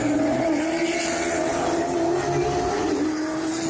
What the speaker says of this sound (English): l still on that rear bumper of Dylan Ward as we now have 3 laps to go here in this first Sportsman race.